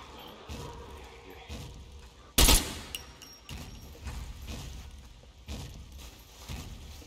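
A single loud gunshot cracks out in the zombie-survival game SCUM, standing sharp above a low ambient bed of footsteps and faint rustling, with brief murmured talk around it.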